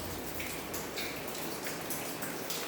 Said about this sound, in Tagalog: Malakas ang ulan sa labas.